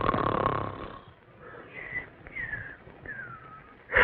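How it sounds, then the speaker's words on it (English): Snoring sounds softly through the passage, with a louder opening rush followed by fainter wheezy, whistling breaths that rise and fall, and no talking. "Either stop snoring or cover your head with pillows."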